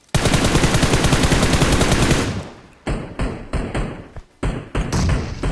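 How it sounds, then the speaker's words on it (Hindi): Gunfire in the mobile battle royale game BGMI: a loud sustained burst of rapid automatic fire, then a series of separate sharp shots and short bursts, close and prominent. "पीछे के साइड वाला जो बॉट फायर कर रहा है बंदा"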